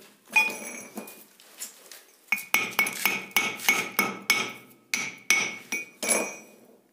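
A tool scratches at the copper rotor of a submersible motor, making a series of sharp, close metallic strikes with ringing clinks, about a dozen hits in an irregular rhythm after a short pause.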